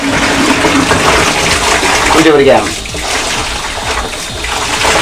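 Water sloshing and splashing in a basin as a wig is dragged through it for rinsing, loud and close, with someone talking over part of it.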